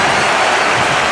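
Broadband roar of an arena crowd cheering and applauding in the wrestling video game WWE 2K25, steady and loud throughout with no let-up.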